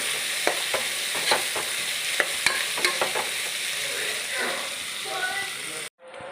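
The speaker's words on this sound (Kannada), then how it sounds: "ಒಂದು ನಾಲ್ಕರಿಂದ ಐದು ಮೀಡಿಯಮ್ ಗಾತ್ರದ ಈರುಳ್ಳಿಯನ್ನು ಕಟ್ ಮಾಡಿ ಹಾಕ್ತಾ ಇದ್ದೇನೆ" Four to five medium-sized chopped onions sizzle and fry in a pan while a spoon repeatedly scrapes and stirs them, giving a steady hiss with clacking stirring strokes, cut off abruptly just before the end.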